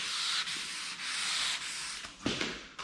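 Sandpaper rubs back and forth across the clear coat of a Chevrolet Camaro Z28 by hand, a close, steady hissing scrape in repeated strokes with brief pauses between passes.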